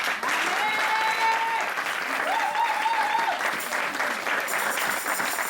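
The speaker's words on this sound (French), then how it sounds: "Est-ce qu'on peut acclamer le roi très fort?" A church congregation at a Sunday service claps and cheers for Jesus, dense sustained applause with voices shouting and sustained singing-like tones riding on top, loud and continuous throughout.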